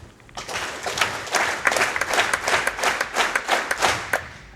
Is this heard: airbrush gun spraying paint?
no